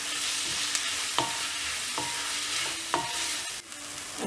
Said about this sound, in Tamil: வெங்காயம் தக்காளி இஞ்சி பூண்டு பேஸ்ட் இது எல்லாமே நல்லா வதங்கணும்